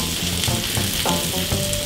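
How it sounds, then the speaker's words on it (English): Steady sizzling and crackling of vegetables frying in a hot pan for a frittata, with soft stirring scrapes now and then, continuous and close. "So we're nicely mixed and sizzling away."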